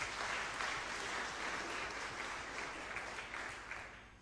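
A conference audience claps in a steady, dense wash of applause that holds for several seconds and then eases slightly, fairly distant and even.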